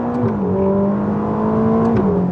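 A Ferrari Roma sports car engine hums and rises steadily in pitch as it accelerates, heard from inside, then dips slightly as it shifts near the end.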